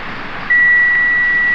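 A multimeter's continuity beep sounds as a steady, loud, unbroken electronic tone that starts abruptly and holds for over a second, checked on a Proton Saga FLX car that will not start.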